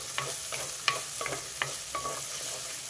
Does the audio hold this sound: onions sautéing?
yes